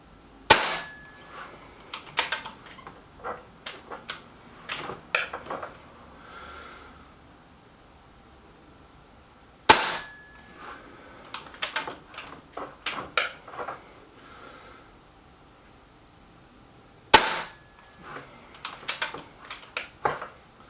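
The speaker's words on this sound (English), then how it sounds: "It's actually shooting, it shot one, the first shot was actually a Hades" A sub-12 ft-lbs .22 air rifle firing slugs gives three sharp, close cracks spaced several seconds apart, each one followed by clicks and rattles of handling.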